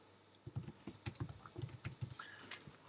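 A web address tapped out on a computer keyboard, a quick uneven run of soft close key clicks lasting a couple of seconds, quiet and alone.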